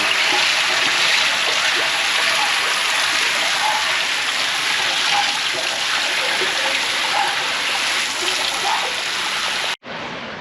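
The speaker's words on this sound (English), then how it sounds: "We're going to start with just rinsing it with under pressure here." Water sprays under pressure inside a sewer tank: a steady, loud, broadband hiss and splash that continues unbroken for nearly ten seconds, then cuts off abruptly before briefly resuming.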